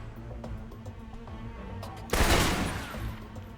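After a low, quiet stretch, an assault rifle from the Alpha Protocol video game erupts in a sudden loud burst of gunfire that rings out and gradually fades.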